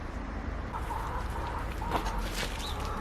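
Chickens clucking at a farm market garden, soft scattered clucks in the middle distance over a steady outdoor background rumble, no talk.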